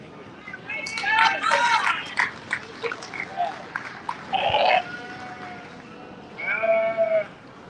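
Sheep bleat at a livestock show, several loud, wavering calls scattered through the clip, with people talking in the background.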